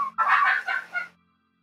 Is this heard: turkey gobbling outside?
yes